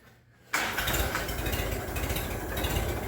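A Minneapolis Moline BF tractor engine, freshly rebuilt and fitted without its cherry bomb muffler, catches after a brief quiet moment and keeps running with a loud, steady, rough mid-pitched rumble.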